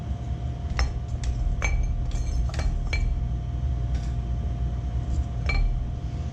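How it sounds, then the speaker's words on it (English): Pieces of Binchotan charcoal are set into a yakitori grill, giving sharp, ringing clinks. About a dozen bright, glassy knocks come at uneven intervals over a low steady hum. "now we're going to put our Binchotan charcoal into the grill"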